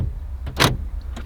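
The power door locks on a 2015 Subaru Legacy cycle during remote key programming, producing a few quick mechanical clunks: a soft thud, a louder sharp clack, then a lighter click shortly after, close by and without talk.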